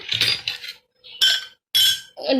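A metal spoon clinks sharply against a glass while stirring milk mixed with Amul Kool and Rooh Afza. There are several close, bright bursts of clinking separated by short silences, with no voices.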